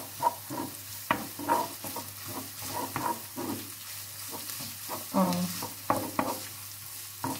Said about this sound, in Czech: Promícháme.